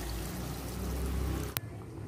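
Water poured into a pan of paneer tikka masala gravy after the fried masala has released its oil; a steady, close splashing pour runs for a second and a half, then ends with a sharp clatter.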